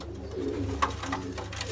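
Ferozpuri pigeons coo softly nearby, with low murmuring calls and a brief flutter or tap amid light background noise.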